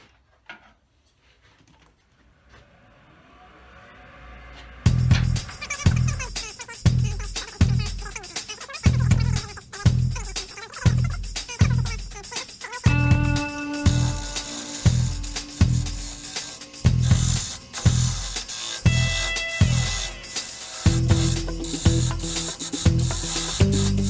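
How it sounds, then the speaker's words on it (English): A vase blank spins on a wood lathe. After a quiet start the motor hum rises, then loud rhythmic thumps and a rough cutting rasp come as the gouge rounds off the uneven wood, close and continuous. "I've got it in the lathe,"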